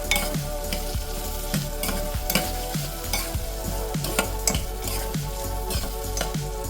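Two finely chopped onions fry in oil in a pan for a cluster bean (gavar) curry, sizzling steadily while a spoon scrapes and stirs in repeated rhythmic strokes, close and clear with no talking.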